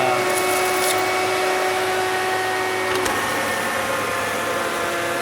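An electric fan blows air in a greenhouse with a steady, close whooshing drone and a faint tonal hum that shifts partway through.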